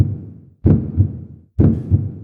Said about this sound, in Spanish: El latido,